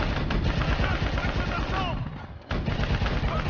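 Rapid bursts of automatic gunfire in the video game Call of Duty: Black Ops 3 rattle continuously with dense explosive texture, briefly easing before resuming at full intensity.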